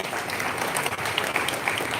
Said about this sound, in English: I request all of you to give him the round of applause also